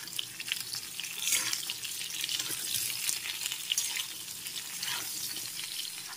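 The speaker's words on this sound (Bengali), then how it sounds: "প্রথমে আলু, বেগুন আর কুমড়ো সবই দিয়ে দিলাম। একটু ভেজে নিতে হবে ভালো করে।" Potato, eggplant and pumpkin frying together in a pan, a continuous crackling sizzle with occasional stirring scrapes, close but fairly soft, without talk.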